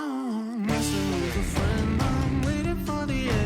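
A rock track: a sung note alone before full band kicks in with dense drums, bass and guitars under a steady vocal, loud and continuous throughout.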